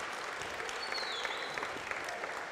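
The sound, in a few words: audience applause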